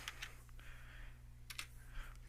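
Quiet typing on a computer keyboard: scattered soft key clicks in short clusters over a low steady hum, with no talking.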